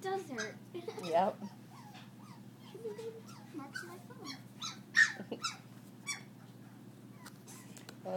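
Four-week-old corgi puppies whimper, squeak and yip in a tumbling pile, with short high cries scattered across the clip under frequent adult speech nearby.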